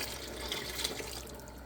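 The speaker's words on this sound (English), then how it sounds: "I'm going to go ahead and pour in my lemon juice" Lemon juice poured into apple pie filling as it boils, a soft steady liquid splash and trickle running for under two seconds with faint bubbling beneath.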